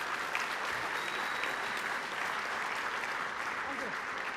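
A youth soccer club's senior night audience claps steadily, a dense even wash of applause from a gathered crowd, continuous at moderate distance throughout.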